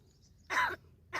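Two short, harsh coughing bursts from a talking crow in Palghar, separated by a brief pause, close and fairly clear against a quiet background.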